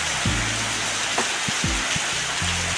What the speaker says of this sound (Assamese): এনেকুৱাকৈ বৰষুণ পেলাইছে গোটেই পানী কৰি পেলাইছে